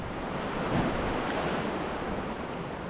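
Rogue River water rushing steadily through a wild canyon, a dense, continuous broadband roar like surf with a wind-buffeted edge, loud and close throughout with no voices.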